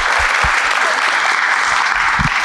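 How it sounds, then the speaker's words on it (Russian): Audience applause following a talk on hard skills in software development, a dense, steady clapping that fills the whole stretch without any voices. "Аплодисменты."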